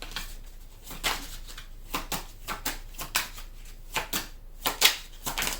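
A deck of tarot cards is shuffled close up in a quiet room, making a steady run of brisk riffles and soft slaps that repeat roughly every half second, with no voice heard.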